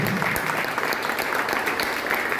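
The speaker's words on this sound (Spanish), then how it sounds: "Damos un aplauso al cielo." A church congregation breaks into brief, steady applause during a worship service, an even wash of many hands clapping together without speech on top.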